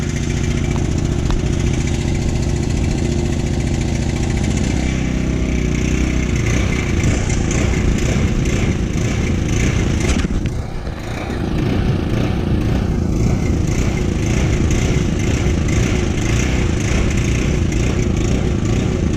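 Engine-driven pump running steadily while pumping groundwater out of a pit blind during end-of-season maintenance, a loud continuous close-up drone with a brief dip partway through.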